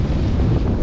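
Strong wind roars steadily across the microphone on a boat in the middle of the sea, a dense low rumble with the wash of open water beneath it and no voices.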